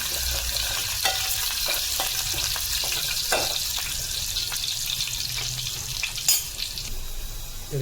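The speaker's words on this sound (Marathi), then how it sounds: "हे आपलं तेल. तर ही आता आपली लसूण घालून घेऊया." Garlic sizzles steadily in hot oil in a pot on a gas stove, a constant close frying hiss with occasional stirring clicks and no talk.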